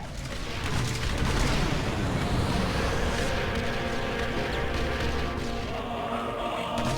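Turret gunfire aimed at a climbing enemy dropship in Star Wars Republic Commando, a dense, continuous barrage of booming shots and blasts that stays loud for the whole stretch, with no talk over it.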